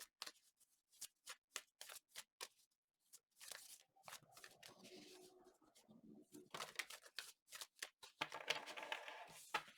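Tarot cards being shuffled and drawn, close and quiet: a run of separate riffles and snaps in an uneven rhythm, then a longer burst of shuffling and sliding cards.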